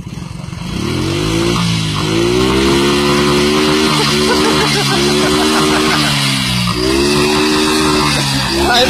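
A motorcycle engine revs and accelerates loudly and steadily throughout, its pitch rising and falling in repeated sweeps as the throttle opens, close by with a rough mechanical clatter underneath.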